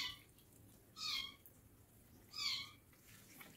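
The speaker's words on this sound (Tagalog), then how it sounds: "We have a lot of cats, yeah?" A pet cat meows twice, clear and fairly close, with quiet background between the calls and no talking.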